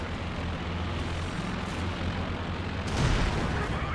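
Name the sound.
artillery explosions in Company of Heroes 2 video game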